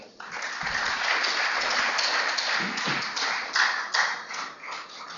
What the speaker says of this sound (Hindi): पुरजोर तालियों के साथ उनका आप स्वागत करें